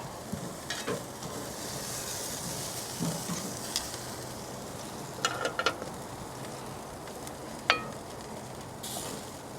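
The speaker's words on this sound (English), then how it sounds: "the fat's starting to render down nicely here" Pork chop fat sizzles and spits steadily on a Kamado Joe grill, a dense, close frying hiss with a few sharper crackles and pops breaking through.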